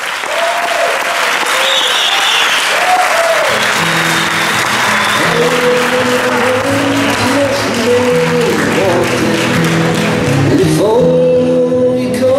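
Crowd applause at a Festa Major town festival in L'Ametlla de Merola, steady loud clapping from a large crowd, mixed with voices and a sustained tonal, music-like sound running underneath.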